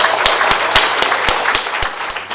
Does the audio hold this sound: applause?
yes